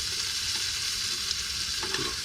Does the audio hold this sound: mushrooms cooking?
yes